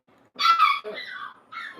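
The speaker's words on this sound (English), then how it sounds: "I know you guys hear him. I hear Doggie" A dog gives a few short, close vocal bursts, whiny and breathy, separated by brief pauses in an otherwise quiet room.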